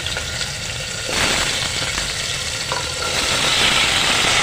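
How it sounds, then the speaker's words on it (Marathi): Potatoes fry with cumin for pav bhaji in a pan over low heat, a steady close sizzle with stirring scrapes that grows louder partway through. "दोन मिनटं बटाटे थोडे फ्राय करायचे आहेत"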